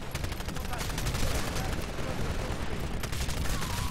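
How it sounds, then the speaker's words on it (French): Explosions and gunfire from the video game Titanfall come as a dense run of sharp, crackling bursts that fill four seconds, loud and continuous with no clear pause. "regardez-moi l'explosion que ça cause par exemple lorsque je mets"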